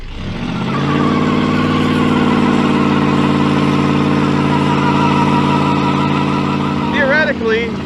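A car engine on a 150-shot nitrous oxide setup runs loud and steady with a dense, rich drone. Toward the end a brief rising whine cuts in over it.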